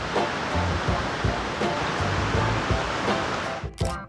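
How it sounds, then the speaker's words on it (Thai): A steady, dense rush of falling water fills the whole clip. A brief voice breaks in near the end. "อันนี้คือน้ำตก"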